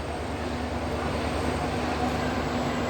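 A MEMU local train runs between Ahmedabad and Vadodara, a steady broadband rumble with a faint constant hum, heard from on board without any voices.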